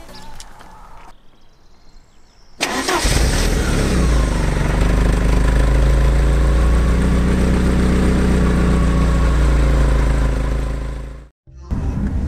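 A Porsche 944 engine cranks briefly then catches and runs at a loud, steady idle close by for several seconds before cutting off near the end.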